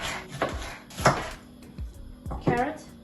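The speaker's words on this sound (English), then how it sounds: "now we have to cut some pepper" A kitchen knife cutting pepper on a board outdoors while a bograch stew cooks in a pot, with a few distinct chops in an uneven rhythm close by.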